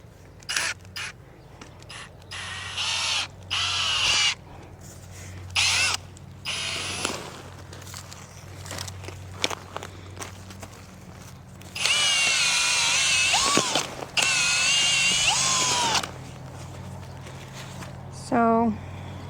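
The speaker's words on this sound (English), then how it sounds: "Bring you in a little bit closer just to show you the auger." A power auger drills a planting hole in garden soil for tomato plants, whining in loud on-off bursts with a long sustained run midway, while a person talks and crows caw nearby.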